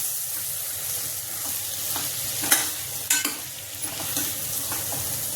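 Stuffed brinjal is sautéed with leftover masala in a pan for Maharashtrian bharli vangi, giving a steady sizzle under repeated scraping stirs and a few sharper clinks of the spatula, with no talk.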